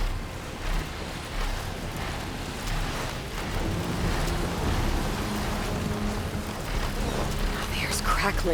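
Steady rain with a low rumble of thunder in Horizon Forbidden West's stormy wilds, a continuous wash of downpour holding fairly loud, with a person talking over it.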